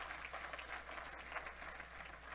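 Applause from a church congregation during a worship service, a steady wash of clapping held at an even level with no voices rising above it.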